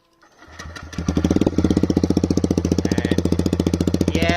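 A motorcycle with a free-flow full-system exhaust and no dB killer starts up and then revs hard and repeatedly, throbbing loud and close with rapid pulsing firing beats.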